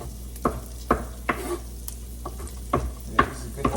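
A wooden spoon or spatula scrapes and taps through oyster mushrooms in a hot pan every half second or so, with a steady soft sizzle underneath.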